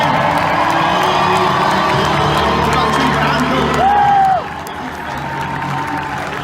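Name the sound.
rodeo crowd applauding and cheering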